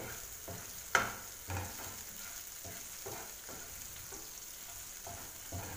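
Chopped green chillies and ginger frying in a pan for kachori filling, stirred with a spoon in a steady, fairly quiet sizzle broken by a few sharp scraping knocks.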